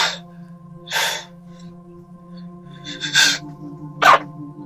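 Four short, sharp breathy bursts of a performed fake sneeze, spaced about a second apart over a steady low hum in a quiet room, with no talking.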